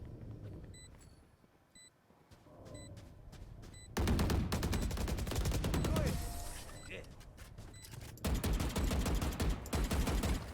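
Gunfire from the game Valorant crackles in rapid automatic bursts, starting quiet and then erupting loudly, with short electronic beeps mixed in and game voice lines around it.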